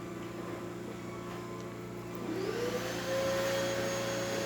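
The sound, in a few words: Gaggia espresso machine pumping water, working hard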